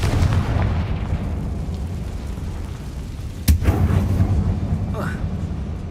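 Confringo fire spell cast in Hogwarts Legacy, a sharp burst at mid-clip over a steady low game rumble, followed by crackling whooshes.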